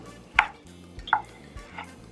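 A kitchen knife cuts through vegetables for salsa in three separate crisp chops about a second apart, close and clear with no talk.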